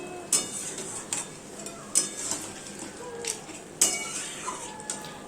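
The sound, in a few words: stirring food in a cooking pot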